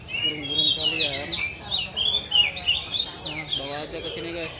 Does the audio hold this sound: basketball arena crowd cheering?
no